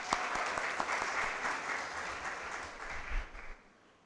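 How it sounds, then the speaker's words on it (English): A university orientation audience applauds students from the Western campus, a full round of clapping with a few crisp claps at first, thinning and fading out near the end. "Round of applause to those who made the journey."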